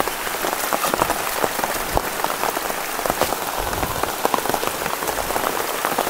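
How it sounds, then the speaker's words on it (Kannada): Rain pours steadily in the Tulartal forest in Northeast India, a dense, close patter of drops striking leaves and surfaces with scattered louder splats and no voices. "ನೋಡಿ ಈ ಮಳೆ ಬರ್ತಿದೆ"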